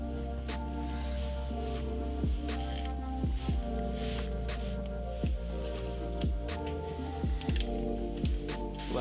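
A ratchet tightens stainless stator bolts on a YZ250 engine in a star pattern, with repeated close clicking pawl bursts over a steady low hum, coming in rhythmic runs with short gaps as each bolt is turned down.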